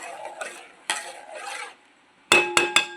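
A spoon stirs tamarind pulihora in a pot in soft scraping sweeps, followed by three sharp metallic clinks of the spoon against the pot.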